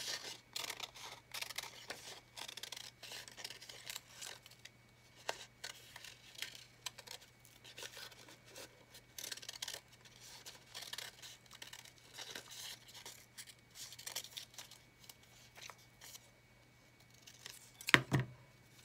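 Scissors cut out a paper shape in an art class, giving a quiet series of short snipping and crinkling sounds at close range, with a sharper crackle near the end.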